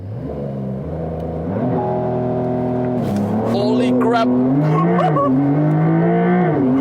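A Porsche 911 GTS of the 992 generation makes a Sport Plus launch-control start, its engine revving up loud and close and pulling hard through rising gears, with tire noise, while a person shouts over the engine.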